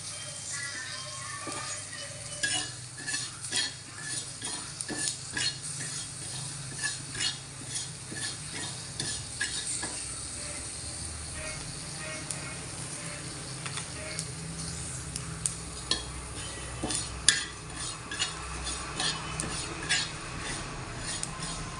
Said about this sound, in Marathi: आता थोडे तीळ भाजून घेते